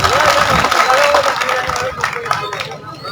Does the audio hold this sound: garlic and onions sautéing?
no